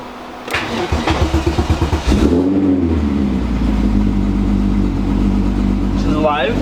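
A car engine cranks with a quick run of rhythmic chugs, catches and settles into a loud, steady idle that rumbles up close, with voices briefly heard.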